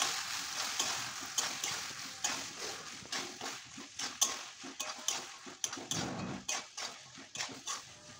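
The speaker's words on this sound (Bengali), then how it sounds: "এবার ভালো করে একটু নাড়িয়ে নিচ্ছি" Boiled peas and fried potatoes being stirred into ghugni masala in a pan, giving a continuous close sizzle with repeated scraping and clattering stirs throughout.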